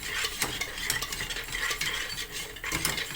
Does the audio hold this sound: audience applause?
no